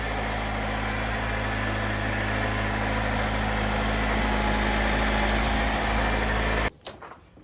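A 2021 Jeep Wrangler engine running at a steady, loud idle close by, with a constant low hum and rumble throughout, then an abrupt drop in level near the end.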